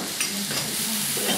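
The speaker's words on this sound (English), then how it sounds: "So here goes the tomatoes." Tinned tomatoes hit a hot pan in an aubergine and yard long bean saag, giving a soft steady sizzle with faint stirring scrapes, close and alone.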